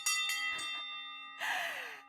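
A hand bell rings at a Swiss fintech summit, with a few quick clanging strokes followed by a louder final ring and a sustained metallic tone that fades.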